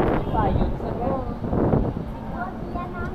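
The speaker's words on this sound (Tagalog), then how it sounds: "Masyadong mahangin ngayon dito." Strong wind buffets a microphone outdoors by a street fishball stand, a low rumbling roar that persists beneath a person talking.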